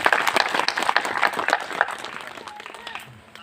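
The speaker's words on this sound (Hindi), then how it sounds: "आप लोग एक बार ताली बजा करके धन्यवाद ज्ञापित करेंगे।" An audience at an ashram gathering claps in thanks, a brief burst of close, dense hand clapping that quickly tapers off into quiet.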